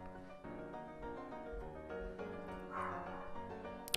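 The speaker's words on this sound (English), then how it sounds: "I wonder if you guys can hear my dog." A dog barks and whimpers at the mailman arriving, heard faintly at a distance through a steady background of game music, with a few yips rising above it.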